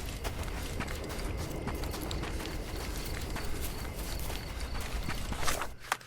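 Rapid video game hoofbeats from Sherlock Holmes: Chapter One clop steadily over a dense, noisy background, like a horse galloping continuously for several seconds.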